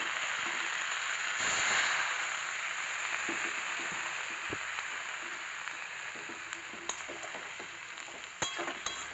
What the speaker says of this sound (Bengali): এবার জল দিয়ে দেবো, গরম জল দিচ্ছি